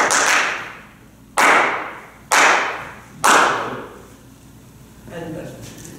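Three loud, evenly spaced thuds, like a staff striking a stage floor to signal the curtain opening in the French theatre tradition, each one ringing briefly before the next, followed by faint noise.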